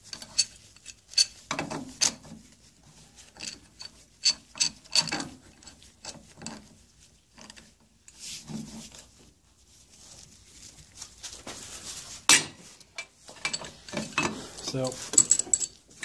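A pipe wrench slips off while loosening the lower-unit gearcase of a 1979 Evinrude 55 HP outboard, giving scattered metallic clicks and ratcheting clanks with one sharp knock, mixed with someone talking.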